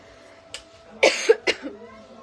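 A few sharp, close coughs in quick succession, loud and abrupt against a quiet background.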